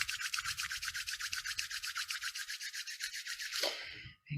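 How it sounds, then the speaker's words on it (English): Palms rubbed briskly together during a slow flow hatha yoga session, a close, steady rhythmic swishing friction with quick regular strokes for about three and a half seconds before stopping, no talk over it. "Let's rub our palms."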